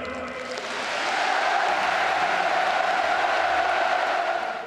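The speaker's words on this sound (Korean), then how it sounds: "우리 모두 문재인 대통령에게 열광적인 박수와 열렬한 환호를 보내줍시다" A large crowd at the 2018 Pyongyang inter-Korean summit gives President Moon Jae-in sustained, enthusiastic applause and cheering, a dense steady roar swelling slightly and holding loud throughout.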